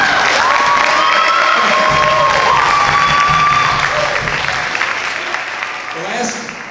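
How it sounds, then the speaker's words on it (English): An audience at a high school band concert breaks into loud, dense applause with some cheering and crowd noise, then thins and fades as a voice starts to speak. "I get a round of applause"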